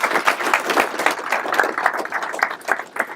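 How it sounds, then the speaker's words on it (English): An audience gives a warm round of applause at a workplace gathering, many hands clapping in a dense, lively burst that swells and holds, close and loud. "So please give them a big round of applause."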